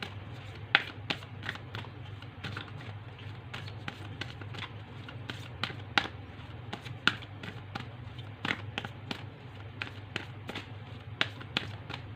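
Tarot cards handled and shuffled up close, a dense run of sharp slapping and tapping flicks at an irregular pace, with no voice over them.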